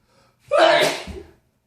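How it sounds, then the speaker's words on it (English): A single loud, close human sneeze: a brief sharp intake, then an explosive burst that trails off over about a second. "Why do I keep sneezing?"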